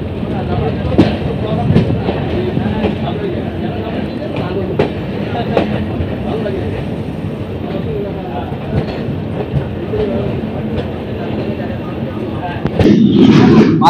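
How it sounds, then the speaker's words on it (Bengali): The Kolkata to Sairang Express, train 13125 on its inaugural run, rolls along the rails with a continuous heavy rumble and rhythmic wheel clatter, swelling to a louder, harsher clatter near the end. "তো ফাইনালি আমাদের ট্রেন নির্ধারিত সময় থেকে মাত্র 3 মিনিট দেরিতে কলকাতা স্টেশন ছেড়ে দিল।"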